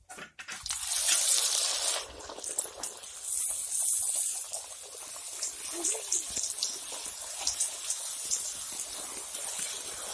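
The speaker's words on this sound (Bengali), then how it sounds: "দেখুন, তেল গরম হয়ে গেছে, আমি তেলে ছেড়ে দেব।" A broad, steady sizzle of wheat-flour puris frying in hot oil, loud at first and settling into a continuous crackling hiss with no talking.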